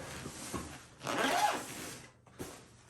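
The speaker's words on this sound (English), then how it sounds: "This is the hardest part, getting the dang zipper together." The zipper on a portable ZenStyle tattoo massage chair case is pulled closed in several close, raspy strokes, one longer drag in the middle followed by a short final pull, with no talk.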